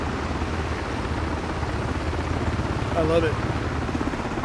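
A Black Hawk helicopter in Microsoft Flight Simulator 2024 drones with a steady low rotor rumble that fills the whole clip, and someone talks briefly over it.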